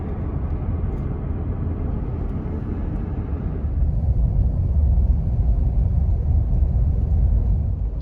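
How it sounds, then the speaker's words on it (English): A car drives along forest roads near Lake Crescent in Olympic National Park at night, a steady low engine and tyre rumble that grows slightly louder halfway through, with no talking. "we're driving through these forest roads"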